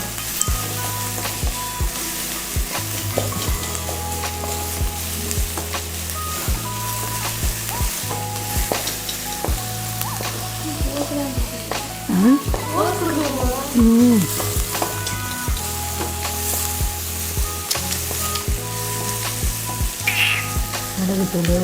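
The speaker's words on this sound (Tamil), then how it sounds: "இந்த அளவுக்கு வெங்காயம் வதங்கினா போதுங்க." Onions sizzling and sautéing in a pan for egg parotta momos, a continuous crackling fry with stirring scrapes and occasional clinks, close and fairly loud with no talk.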